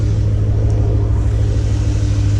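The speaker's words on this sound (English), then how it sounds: "I'm leaving the car running just to charge it up a little more." A Dodge Challenger engine idles steadily while parked to charge its battery, a close, constant low rumble with no change in revs and no voices.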